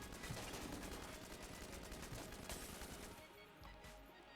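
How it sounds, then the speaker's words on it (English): A weapon in Enter the Gungeon that fires a remote-controlled fist, producing a dense, noisy barrage of rapid bursts that fades slightly near the end. "And then it fires a fist."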